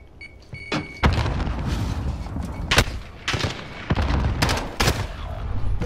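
Gunshots in a first-person shooter video game: a handful of loud, sharp reports and rapid bursts at irregular intervals, close and punchy over a rumbling game background.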